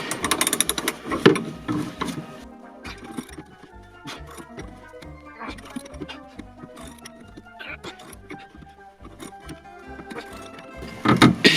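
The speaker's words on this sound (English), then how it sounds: "You could hear the ratchet on top just sort of rattling about every now and again" A ratchet sits on top of a Triumph Scimitar during restoration work, rattling loosely every now and then. Metallic mechanical clatter and clicks come through over the work noise, close by and fairly loud at the start and end.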